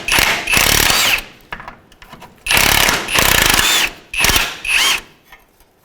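Short repeated bursts of ratcheting and mechanical buzzing from a 19mm wrench and socket working a front lower control arm nut on a 2007-2013 Mitsubishi Outlander, three loud close spurts with brief gaps between.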